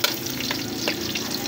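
Crushed garlic sizzles steadily in a hot pan for chicken adobo, a close, even frying hiss with faint stirring.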